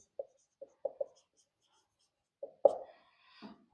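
Chalk or marker strokes on a classroom board during a biology lesson, a few short scratchy taps in quick bursts, close and faint, with brief stretches of quiet between.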